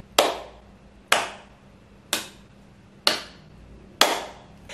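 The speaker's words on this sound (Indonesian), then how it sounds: "dia cuma datang dengan tepuk tangan seperti ini" A street busker claps his hands outside a boarding house: five sharp, loud claps spaced about a second apart in a steady rhythm, each ringing briefly before the next, with no voices.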